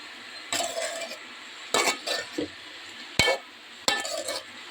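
Cabbage stir-fry being mixed in a pan over low heat, giving several short bursts of scraping and clattering spatula strokes separated by pauses, close and fairly quiet.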